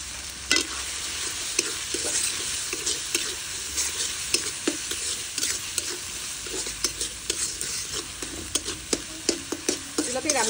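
Rice stirred into chicken for biryani, cooked together in one pot over a stove, gives a close bubbling sizzle punctuated by regular scraping knocks of the spoon against the pot, with no talk.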